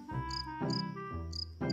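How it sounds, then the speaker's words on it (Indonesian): Cricket chirping in short repeated bursts, loud and close, with steady tonal hum underneath and no voices. "yang pertama adalah jangkrik."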